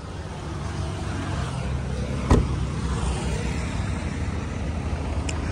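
A 2015 Kia Rondo's diesel engine idles smoothly, a steady even hum with one sharp click partway through.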